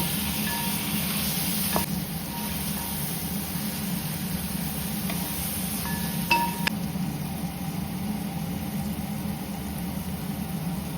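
Onion and tomato sauté in a pan for chicken curry, giving a steady, close sizzle of frying with occasional stirring and utensil clicks throughout, no voices.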